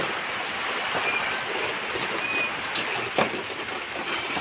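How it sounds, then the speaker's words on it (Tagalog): Steady heavy typhoon rain pours down in Batanes, Philippines, with a constant hiss, scattered drops pattering on surfaces and occasional sharper splashes, no voices. "Patuloy pa rin ang ulan at hangin"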